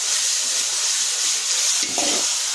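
Chicken and onions fry in a pan for a simple home curry, giving a steady, close hiss of sizzling oil that stays loud throughout, with a brief stirring scrape near the end.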